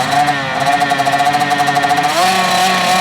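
A fuel-injected motorcycle revs hard and up close at a practice start, its loud buzzing engine note wavering and climbing briefly.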